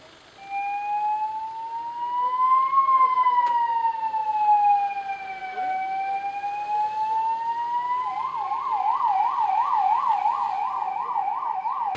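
An ambulance siren wails in slow rising and falling sweeps, then switches to a rapid warbling yelp, loud and steady throughout.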